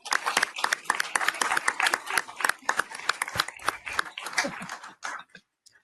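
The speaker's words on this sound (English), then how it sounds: "I think that probably deserves a round of applause," A round of applause at a school district governing board meeting, a brisk burst of many hands clapping in a room that lasts several seconds, then stops abruptly.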